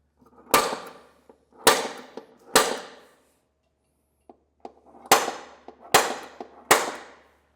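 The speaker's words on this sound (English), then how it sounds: "We can take our hole punch and we're going to go directly into the center of these center holes" Six sharp metallic hammer strikes on a punch into the frame bracket holes of a 2024 Ford F-series truck ring out in two groups of three, each with a short clanging decay, plus a few faint taps between them.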